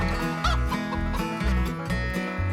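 Chickens in a coop in the Farming Simulator 25 video game cluck in quick, repeated bursts, close and loud, with no talk over them.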